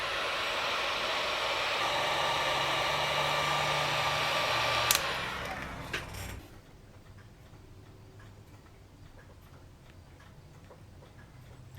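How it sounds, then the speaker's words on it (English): A heat gun set to 280 degrees Fahrenheit blows a loud, steady rush of hot air for about six seconds, then cuts off, leaving a faint hum with a few clicks. "Okay, I have the heat gun set for 280 degrees Fahrenheit."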